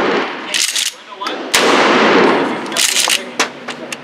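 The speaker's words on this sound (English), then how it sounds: "With the slug. 1 ounce projectile. See if I could put some accurate shots on this guy." A shotgun fires one-ounce slugs at an outdoor shooting range, several loud, sharp blasts with a long echoing boom in between, close to the listener.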